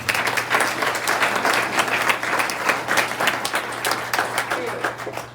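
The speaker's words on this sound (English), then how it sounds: "So one more round of applause for them." An audience at a Rotary Club meeting gives a round of applause, steady dense clapping from a roomful of people lasting about five seconds before tapering off at the end.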